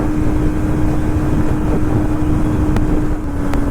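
A Kawasaki ZX-25R motorcycle engine revs at high RPM, heard as a loud, continuous roar mixed with heavy wind rush, with no talk over it.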